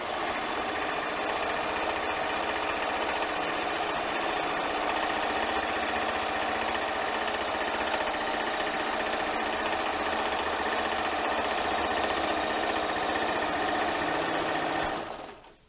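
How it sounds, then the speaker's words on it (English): Sewing machine running continuously at steady speed while stitching a baby quilt, a close, even mechanical whir with rapid needle rhythm that stops abruptly at the end. "It doesn't really matter where you put your machine because you're in control of what happens to the stitches."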